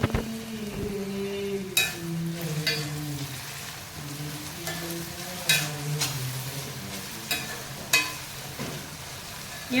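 Washed curry leaves crackle and sizzle steadily in hot oil with chicken livers, while a utensil scrapes and clicks against the pan several times, with no talk.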